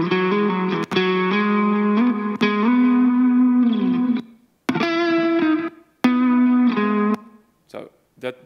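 Distorted electric instrument notes and chords pass through a noise gate, cutting abruptly to silence between played phrases and leaving choppy stops and starts with a slight stutter near the end.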